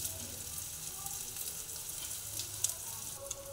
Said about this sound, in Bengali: তাওয়াটা আমি বসিয়ে দিয়েছি, এর মধ্যে তেল দিয়ে দিয়েছি। এটা দেখুন পরোটাটা আমি এইভাবে দিয়ে দিচ্ছি।